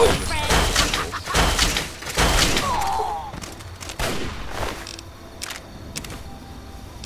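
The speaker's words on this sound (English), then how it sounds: "Somebody's got a sniper rifle, I think." Video game gunfire in Fallout 3, a rapid cluster of heavy booming shots and impacts, loud and near, dense at first then thinning out, with a few faint later cracks.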